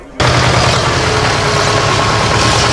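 A tractor pulling a trailer loaded with evacuees' belongings starts up abruptly, then runs as a loud, close, steady low engine rumble with no pause.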